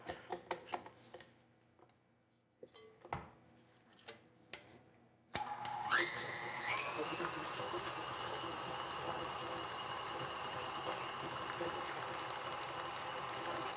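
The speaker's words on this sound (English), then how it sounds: "You can use electric beaters or the paddle attachment." Electric beaters whip a chocolate cake filling. After some quiet handling noises, the motor switches on abruptly and runs as a steady, close whir.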